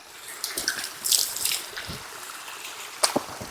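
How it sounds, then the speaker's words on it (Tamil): Mountain stream water trickling and splashing as someone washes their face outdoors on a fort trek, with soft irregular splashes and a brief louder splash near the end, no talking. "சும்மா கொஞ்சம் லைட்டாக ஃபேஸ் வாஷ் பண்ணிக்கலாம்."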